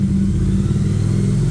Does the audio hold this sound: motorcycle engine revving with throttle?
yes